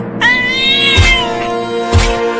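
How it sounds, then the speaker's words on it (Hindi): A cat gives a loud, close, drawn-out meow that rises and falls, followed by a couple of dull thumps, with no speech. "वो बिल्ली दूध लेकर भाग रही है"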